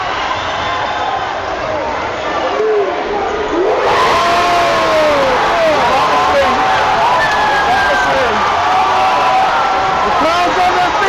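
A basketball crowd at a state championship high school semifinal roars and cheers loudly and continuously, swelling after a few seconds, with sneaker squeaks and a commentator talking over the noise.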